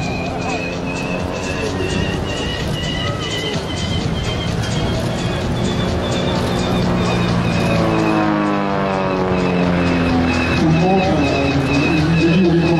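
A Pitts Special aerobatic biplane's engine drones and swells as it passes at the 2019 Jesolo air show, loud with a rising and falling pitch, while an announcer talks over it.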